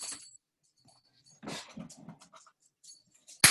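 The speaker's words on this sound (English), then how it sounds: "And I got a dog." A pet dog named Lady Butt panting and snuffling nearby in short breathy bursts, with quiet gaps between them and a sharp knock at the end.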